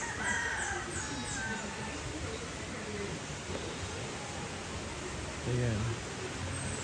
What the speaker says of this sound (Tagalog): So ayun, may mga manok.